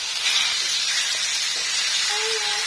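Chicken pieces hit a hot wok and sizzle loudly, a dense, steady frying hiss that holds for the whole moment at close range, with a faint high tone near the end and no talk.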